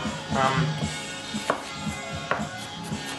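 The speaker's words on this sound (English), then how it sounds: "So just rough chop, doesn't need to be anything too much" Knife rough-chopping vegetables for Sunday gravy, a handful of quick, uneven taps on a cutting board, close and moderately loud.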